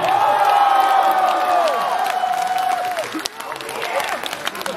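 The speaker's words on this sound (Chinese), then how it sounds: "给他掌声 ，Andrew" Concert audience at a show in Shanghai's Grand Stage arena applauds and cheers, a dense roar of clapping filling the hall while a sustained voice or tone rides over the crowd noise.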